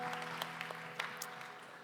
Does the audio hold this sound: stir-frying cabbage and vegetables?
no